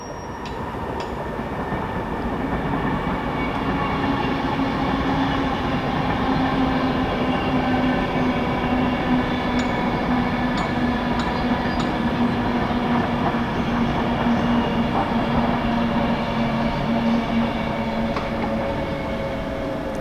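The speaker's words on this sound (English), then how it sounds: "Train coming." A train rumbles past steadily and loudly near a canal, with a continuous roar of wheels and rail noise and faint metallic squeals, and no talking.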